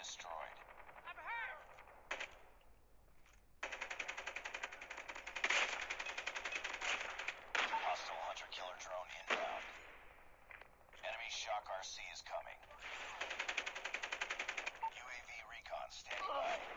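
An RPD machine gun in the mobile game Call of Duty Mobile fires in long, rapid bursts of crisp game gunfire, with short pauses between them.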